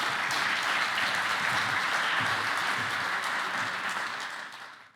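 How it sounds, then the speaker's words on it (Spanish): Audience at a naval industry conference applauds to welcome an admiral, dense sustained clapping from a large crowd that fades out at the end. "le damos un caluroso aplauso"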